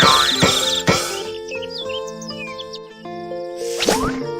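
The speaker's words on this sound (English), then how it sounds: "Keep the birds away from the crops so they don't eat them." Cartoon bird chirps in a children's farm video game, several short high tweets over bright synthesized music tones with sparkly sound effects at the start and end.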